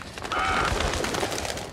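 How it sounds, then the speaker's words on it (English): Crows caw in the horror game Outlast 2 near a cornfield, a few short harsh calls rising over a steady, dense game ambience for under two seconds. "Shut up, crows."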